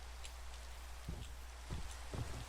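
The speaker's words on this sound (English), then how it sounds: "Oh yay, it's dark and it's raining, but it looks so beautiful." Steady rainfall in the game Minecraft on a dark night, a soft, constant hiss of light rain with a few faint low thumps, no voices.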